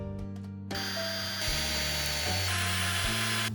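A power drill drives screws through plywood for a floor: a steady motor whine shifts pitch in stepped bursts as each screw seats, loud and close, with no talking.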